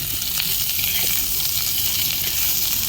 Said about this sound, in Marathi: हा कांदा लाल होईपर्यंत भाजायचा